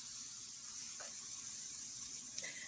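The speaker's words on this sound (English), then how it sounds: "You hear that sizzle?" A giant jumbo meatball sizzles as it cooks, a steady, fairly faint hiss running throughout with a couple of soft pops.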